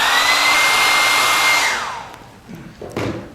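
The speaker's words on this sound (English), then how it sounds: "when I hit it with the hairdryer" A hairdryer blows on a liquid crystal film with a loud, steady rushing whir that winds down as it is switched off, followed by a few faint handling knocks.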